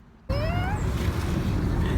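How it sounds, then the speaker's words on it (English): A friendly cat meows outdoors close by, a single rising then falling meow right after a sharp onset, followed by steady background noise. "Oh, here's a cat."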